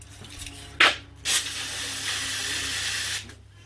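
Brake cleaner sprayed from an aerosol can in a workshop: a short sharp hiss, a second brief burst, then a long steady spray lasting nearly two seconds, close and fairly loud, with no talk.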